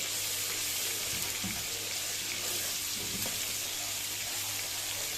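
Spice masala for Bakra Eid Irani kabab curry frying in a pan, a steady soft sizzle with faint scraping stirs, constant and moderately close with no talking.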